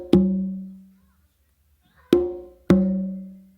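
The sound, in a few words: simultaneous open tones on congas, tumba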